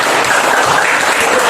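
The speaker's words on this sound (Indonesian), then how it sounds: "Tepuk tangan." Steady, dense applause from a classroom of students, filling the whole moment loud and close with no voices over it.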